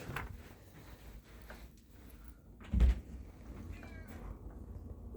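A house cat meows once, short and fairly close, over a quiet indoor background with a washing machine running and faint door or cupboard noises.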